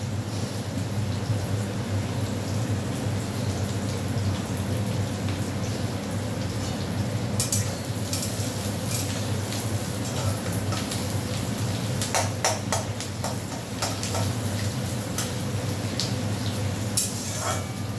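Dried chillies, mustard seeds and black cumin sizzling in hot oil: a steady, close frying hiss throughout, with sharper crackles and pops scattered in the second half.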